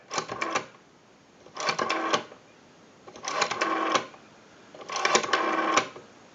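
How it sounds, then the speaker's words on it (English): ITT rotary desk telephone dial being turned and released four times, each a ratcheting wind followed by a smooth, even run of return clicks, close and clear with quiet pauses between. "We have a nice smooth return on our rotary dial now."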